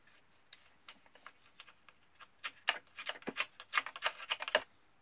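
Old rigging thread being cut on a model ship under restoration, sounding as a series of small, sharp clicks and snips that begin sparse and then come in quick, close bursts.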